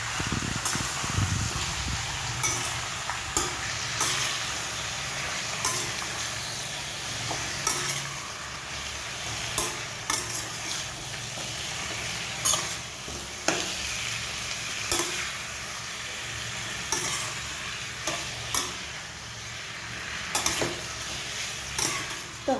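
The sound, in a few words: stirring spiced potato sabzi in a frying pan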